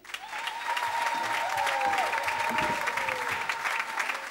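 An audience at a New Year's Eve gathering claps steadily in sustained applause, with a sustained tone and faint voices underneath.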